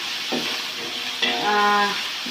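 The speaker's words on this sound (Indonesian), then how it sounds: "jadi cabenya kita goreng dulu sebentar pakai minyak sedikit" Chilies frying briefly in a little oil for Samosir-style ayam napinadar: a steady close hiss of sizzling with scraping stir strokes in the pan and a short tonal squeal partway through.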